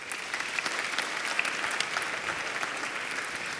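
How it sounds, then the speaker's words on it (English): Audience applause at a virtual reality conference, FMX 2016, fills the room as a steady, dense wash of many hands clapping, close and even throughout with no speech over it. "Let's give Daniel a round of applause."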